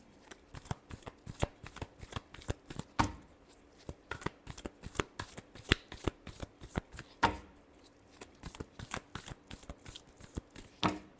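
Tarot cards are shuffled by hand up close, a fast run of crisp riffling snaps and slaps in repeated bursts with short pauses between them, with no talking over it.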